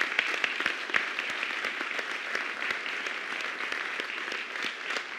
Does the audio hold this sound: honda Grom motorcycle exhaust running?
no